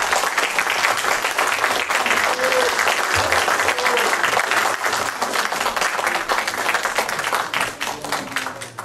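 Audience applause at a lecture in Sorèze: dense, sustained clapping from a crowd, loud and steady for the whole stretch, with faint voices now and then beneath it.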